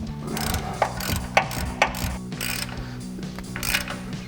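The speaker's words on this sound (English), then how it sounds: "Now we'll grab our 24mm socket and ratchet and tighten down our upper mounting nuts." Ratchet with a 24mm socket tightening the upper mounting nuts of a control arm leveling lift on a 2020s Chevrolet Silverado 2500, giving steady close clicking pawl strokes in short bursts over a low background hum.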